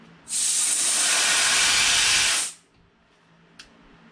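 A loud, steady hiss of compressed air blasting out for about two seconds, then cutting off abruptly, followed by a small faint click.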